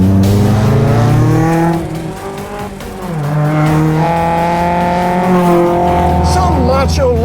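A Mazda Miata race car laps Mazda Raceway Laguna Seca, its engine loud and close with a steady, rising and falling high-revving drone as it shifts through gears, and a voice talks over it.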